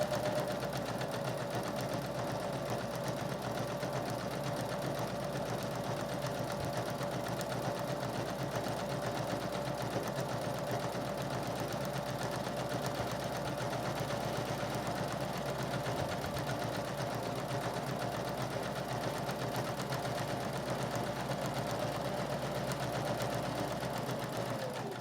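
A sewing machine stitches a fabric lanyard in one long continuous run, a steady mechanical whirr holding at an even, moderate level close by with no pauses.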